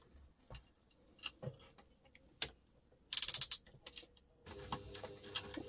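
A sewing machine stitches a double-compartment crossbody bag in a quick, close mechanical burst of rapid ticks. Scattered handling clicks come before it, and a low motor hum follows.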